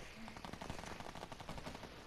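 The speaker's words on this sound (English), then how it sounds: "I literally was using a minigun" Minigun fire in Fortnite, a rapid continuous rattle of shots over two seconds, fairly faint and steady.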